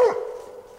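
A bluetick coonhound bays at a raccoon it has treed, one drawn-out howling bark that starts loud and trails off slowly.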